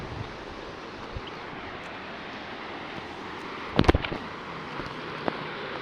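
A strong river current rushes past a broken bridge in a steady, distant wash of flowing water, faint and continuous, with a short burst of handling noise midway.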